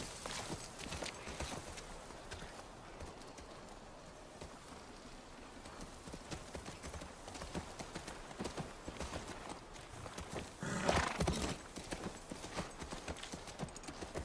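Horse hooves clip-clopping in The Last of Us Part I near a ranch, a steady rhythmic trot at moderate distance over a light background ambience, with a louder burst of movement partway through.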